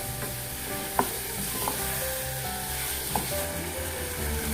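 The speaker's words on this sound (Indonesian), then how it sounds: "sekarang setelah bawang layu, kita masukkan daging gilingnya, Mam. Kita aduk-aduk sebentar sampai semua dagingnya berwarna kecoklatan." Ground beef stirred and fried with wilted onions in a pan, sizzling steadily throughout with occasional clicks and scrapes of the spatula, close and without speech.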